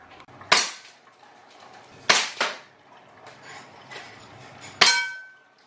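Airsoft rifle shots striking a metal target sign, three sharp clanging impacts with short ringing decay spaced a couple of seconds apart, loud and close, with no voices.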